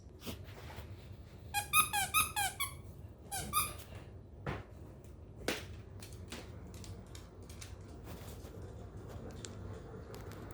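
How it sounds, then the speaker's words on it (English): A squeaky dog toy on a floor squeaks in two quick clusters of sharp, high squeals, followed by scattered softer clicks and taps over a low steady room hum, with no talking. "He can tell that there's a squeaky toy on the floor."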